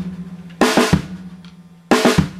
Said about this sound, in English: just take a right and a left on the snare and then a strike on the bass